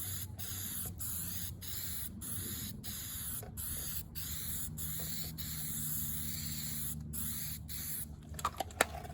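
Light touch-up coats from a spray paint can, a series of short hissing bursts separated by brief pauses, close and steady, with a few small clicks and knocks near the end and no speech.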